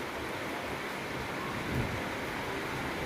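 Evening rain falls in a steady, soft hiss close by, with a faint low rumble swelling briefly midway and no talking.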